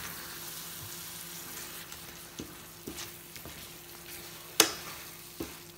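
Vegetable pisto sizzling in a frying pan with a faint steady fry hiss, punctuated by a few distinct knocks and scrapes of a utensil stirring, one sharper clack standing out.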